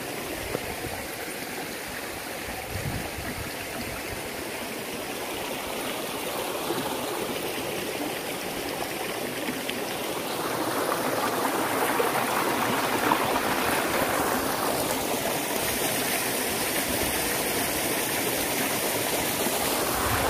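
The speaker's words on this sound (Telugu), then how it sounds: "వాటర్ పైనుంచి ఫాల్ అవుతున్నాయి కదా అక్కడ నుంచి ఇక్కడికి వస్తున్నాయి అనమాట" Steady rushing of a waterfall feeding a flowing stream, a continuous broadband roar that grows slightly louder midway, with no voices.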